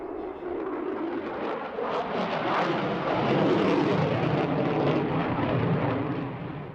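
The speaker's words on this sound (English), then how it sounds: "F-16 Falcons perform incredible maneuvers during air shows" An F-16 Fighting Falcon jet flying at an air display, a loud broadband roar that swells toward the middle and then eases slightly, rumbling and continuous, no voices.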